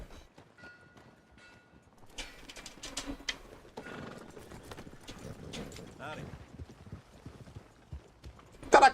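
A horse's hooves clip-clopping in Red Dead Redemption 2, faint at first, then more irregular hoofbeats and a short whinny as it approaches, with someone talking over it.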